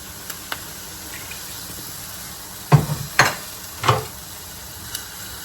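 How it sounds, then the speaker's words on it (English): Meat stirred with beef broth in a hot pan: a soft steady sizzle runs throughout, broken by three short scraping strokes of the spoon in the middle, close by. "I'm going to give that a nice stir. Make sure all the meat is coated."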